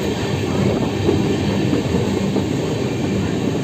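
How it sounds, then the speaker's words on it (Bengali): Passenger train from Howrah toward Bolpur Shantiniketan pulling into a station, a loud continuous rumble of wheels and carriages with faint clatter, steady throughout with no talk. "ট্রেন কিন্তু এখনও কারেক্ট টাইমে ঢুকছে"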